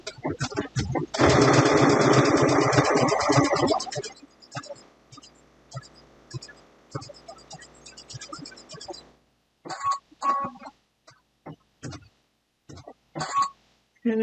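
A sewing machine runs in a fast, loud burst of stitching on a Tula Pink 2021 Block of the Month quilt block. Scattered quieter mechanical clicks and brief bursts follow.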